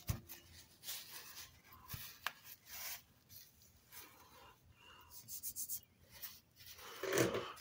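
Excess ink being rubbed off a paper crafting surface, heard as soft, intermittent scrubbing strokes, quiet and close, with brief pauses between bursts.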